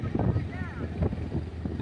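Wind gusts buffet the microphone outdoors in a village, rumbling in uneven bursts while people talk over it.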